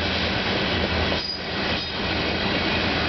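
CN freight train rolling past in Burlington, Ontario: steady, loud broadband rumble of railcars and wheels on track throughout, with a brief dip in the middle, no talking.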